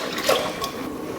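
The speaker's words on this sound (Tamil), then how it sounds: "இப்போ தண்ணி சேர்த்துக்கலாம்." Water pours onto washed rice in a pot for cooking, a short soft splashing and trickling burst, close and moderately loud with no talk.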